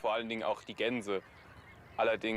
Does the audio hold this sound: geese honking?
yes